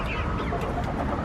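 Chickens cluck on a homestead where young birds are being sorted between roosters and hens, a dense, steady flock chatter close by with no voices.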